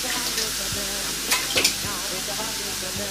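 Chopped onions and carrots frying in a pot for lasagna sauce, giving a steady close sizzle with a few louder spatters and stirring scrapes and a brief clink, no voices.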